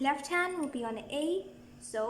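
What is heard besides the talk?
No everyday noise stands out behind the speech.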